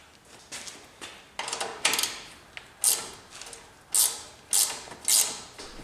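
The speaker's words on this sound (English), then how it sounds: "you can use one of these ratcheting wrenches to get it off the rest of the way" A ratcheting wrench clicks in short bursts while loosening a tight, rusty shock absorber nut on a 4th-gen Toyota 4Runner, the close metallic ratchet strokes coming at a steady rhythm after a few initial scrapes.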